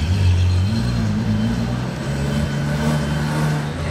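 A Ferrari fitted with a full Novitec exhaust rumbles and revs nearby on a Monaco street, a deep, throaty engine tone rising and settling over four seconds without talk.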